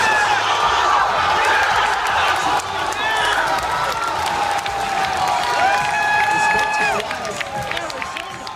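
A large crowd at a Super Smash Bros Melee tournament roars and cheers after a game-ending hit, a dense continuous wall of yelling and applause that stays loud throughout with a commentator's voice mixed in.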